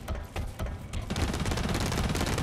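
Revolver shots in Blacklight Retribution, a burst of sharp, closely spaced cracks in a fast ragged rhythm, loud and near, with a couple of separate shots first and a dense run of firing after.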